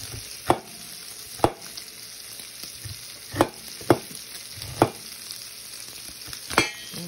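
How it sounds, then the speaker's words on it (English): Bacon sizzles steadily in a frying pan while a utensil stirs it, giving about seven sharp scraping clacks at irregular intervals over a constant close hiss, with no talking. "Give my bacon a stir."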